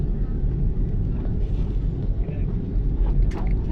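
Steady loud roar of an airplane engine at takeoff from Hazrat Shahjalal Airport, heard from a window seat inside the cabin, a continuous low rumble with rushing wind noise throughout.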